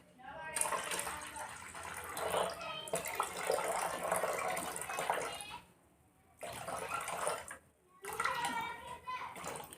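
Water being poured into a white phenyl mixture, a steady close splashing and rushing stream in several long pours separated by short pauses, with a voice talking over it.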